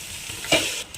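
Marinated mutton dropped into a hot pan of sautéed onions, giving a brief burst of sizzling and crackling that quickly settles into steady frying hiss, close and alone.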